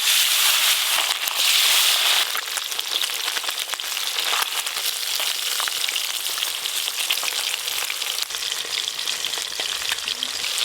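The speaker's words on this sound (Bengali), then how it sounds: "আমি মাছ ভাজি।" Topse fish fry in mustard oil, a dense, loud, continuous crackle and sizzle close at hand, with no talking.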